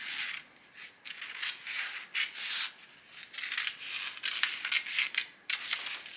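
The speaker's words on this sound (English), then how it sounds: "I'm going to cut here at the armhole, leave a little bit, and I'm going to cut at the neckline" Scissors snipping through paper of a dress block pattern around the armhole and neckline, a series of close, crisp short cuts in uneven bursts with brief pauses between them.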